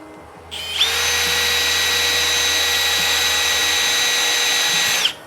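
A power drill bores a hole into the front end of a Saab 900, spinning up sharply and then holding a steady, loud high whine for about four seconds before it stops abruptly.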